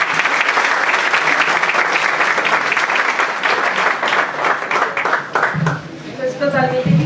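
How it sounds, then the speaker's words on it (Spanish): Loud, sustained applause from a forum audience fills the clip, with a voice speaking briefly in Spanish as it tapers off near the end. "y pues el aplauso es para ustedes"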